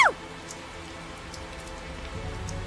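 Steady rain falls in the video game Tales of Zestiria, a soft continuous patter across the whole stretch after a brief sharp tone at the very start, with no voices.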